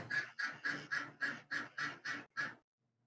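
Ducks quack in the video game Ace Attorney Investigations, eight loud, evenly spaced quacks in quick succession like mocking laughter, then silence.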